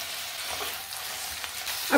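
Tomatoes go into onions frying in a pan for bhindi do pyaza, with a steady, fairly loud sizzle that swells into a sharper burst at the end.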